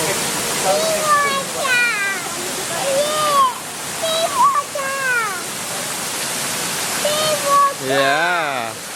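Steady broadband rush of the Ulu Petanu waterfall runs throughout, with voices talking and exclaiming over the continuous roar of falling water.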